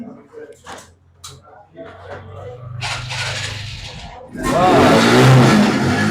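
A 2018 Suzuki Gixxer-class Stryker motorcycle engine revs loud and close in a sustained burst near the end, after several seconds of people talking over a low idle.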